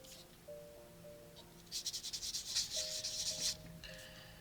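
A polishing sanding stick rubs across a small plastic part of an Airfix 1/48 Boulton Paul Defiant Mk.1 model kit, giving a soft rapid scratching run of about two seconds over a quiet background.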